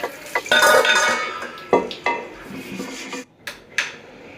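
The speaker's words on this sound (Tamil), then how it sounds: "இப்போ கிண்டி விட்டு மூடிடுவோம்." Spoon scraping and stirring soaked rice with salt in a cooking pot, then a lid being set on: close metallic scrapes and knocks, ending in a few sharper clanks.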